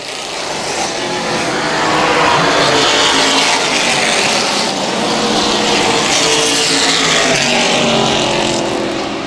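Race cars roaring around the oval at Central Texas Speedway, a loud continuous engine drone that swells and fades as the pack sweeps past, with no speech over it.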